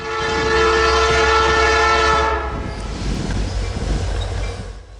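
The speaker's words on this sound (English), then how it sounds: "Here we see the train rounding the curve at the south end of Alex," CN L550 freight train led by SD70i and SD75i locomotives rounds a curve at Alix, Alberta, its loud horn blaring for a couple of seconds before fading into the rumbling roll of wagons passing close by.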